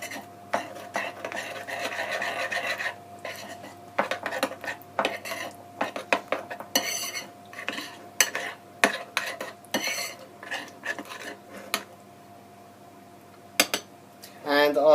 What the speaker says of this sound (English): just use a spoon to really mix that all together